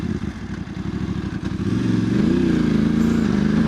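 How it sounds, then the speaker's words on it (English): A Voge 900DSX motorcycle engine chugs with a rapid, uneven pulsing at low revs, then the note rises and steadies as it pulls away, loud and close throughout with no talk. "a bike just not deciding what gear to be in"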